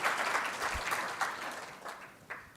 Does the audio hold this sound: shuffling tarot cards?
no